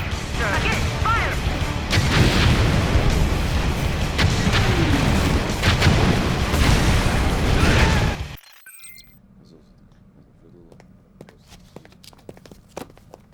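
Artillery firing in a Red Alert 3 cutscene: loud booming volleys and crashing impacts over several seconds, then an abrupt cut to quieter scattered clatter and rumble.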